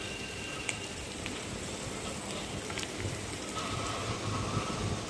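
Food frying in a pan, a soft, steady crackling hiss that continues unbroken at low volume, with no one speaking.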